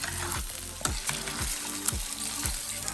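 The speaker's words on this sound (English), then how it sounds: "Let me stir this up first" Thick chili simmering in a pot is stirred with a spoon, giving a steady bubbling sizzle with repeated low scraping sweeps at a slow, even rhythm, close and moderately loud with no talking.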